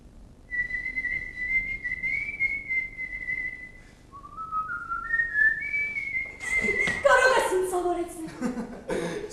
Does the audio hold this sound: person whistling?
yes